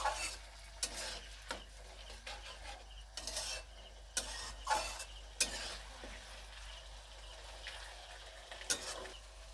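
Egg curry in a pan after half a cup of water is added, stirred with a utensil over low-to-medium flame; soft simmering sizzle with a series of quiet scraping strokes, fairly faint, no talking.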